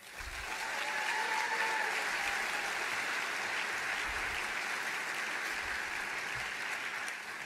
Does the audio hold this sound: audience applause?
yes